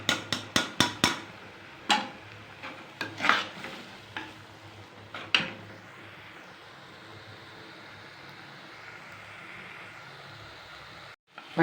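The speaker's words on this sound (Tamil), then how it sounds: "ஃபைவ் மினிட்ஸ் நல்லா மசாலாவை பரட்டியாச்சு, வெந்துருச்சு." Masala powder frying with softened tomatoes in a pan for a crab gravy: a quick run of sharp spatula knocks and scrapes up front, then a steady, moderate sizzle with occasional stirring taps.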